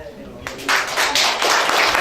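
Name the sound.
audience applause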